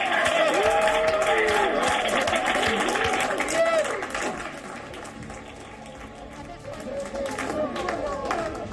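Staff in the NASA control room clap and cheer after the Perseverance rover lands safely on Mars, a busy wash of applause and excited chatter under a man's speech that eases off partway through.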